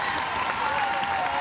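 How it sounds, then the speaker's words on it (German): A live audience at the Kiddy Contest 2013 finale claps continuously, a dense, steady wash of applause from many hands filling the hall without pause. "Ihr macht das wirklich gut mit dem Applaudieren."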